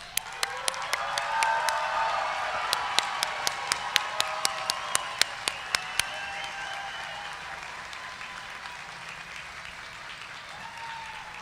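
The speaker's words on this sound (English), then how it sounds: "let's give them a round of applause." Graduates at a college commencement ceremony receive applause from the audience, with a crowd murmur and cheers under rhythmic sharp claps from one or two close clappers that stop partway while the broader clapping fades out.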